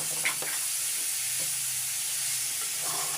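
A cabbage and beetroot stir-fry cooks in a pan, a constant close hiss of frying with a few soft scrapes of stirring, no one talking.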